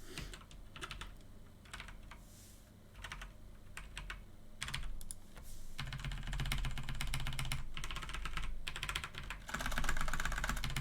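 Rapid keyboard typing and key smashing while playing Maplestory, bursts of clicks that start sparse and grow dense and louder, continuous through most of the stretch, with game sounds underneath.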